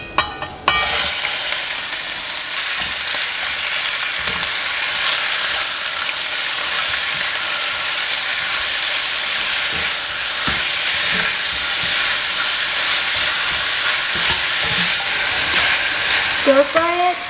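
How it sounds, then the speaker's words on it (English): Pork belly stir-fries in melted sugar in a wok, a loud continuous sizzle with occasional spatula clicks and scrapes running steadily from start to end. "Stir fry it until the meat changes color."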